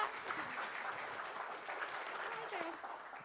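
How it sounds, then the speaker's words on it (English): Quiet, distant applause from a blockchain conference audience, a thin patter of clapping mixed with murmured voices and a brief whoop near the end. "I want a big round of applause for Thomas."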